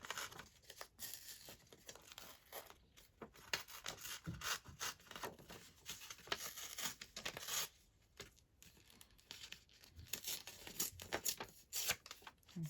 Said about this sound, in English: So I think I'm going to very carefully hand tear it.